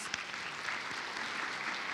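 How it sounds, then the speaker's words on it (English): A breakfast event audience claps for the speakers, a quiet, even patter of many hands heard from some distance. "can we give a hand clap to these other speakers that came before me?"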